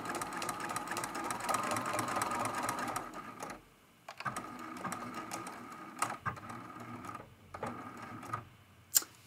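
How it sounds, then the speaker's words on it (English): A sewing machine stitches along a quilt line on an art quilt, then backstitches to lock the seam, running in steady bursts broken by short pauses, close and alone. "I'm going to stitch down to this previous stitch line and back stitch just to lock it in place"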